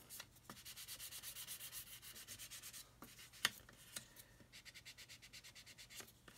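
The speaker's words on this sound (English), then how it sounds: "Try this 400 Matador here." Hand sanding a plastic 1/72 Airfix Vulcan model kit with 400-grit Matador sandpaper: steady, rhythmic back-and-forth rasping strokes, close and fairly quiet, with a few sharper scrapes and no talking.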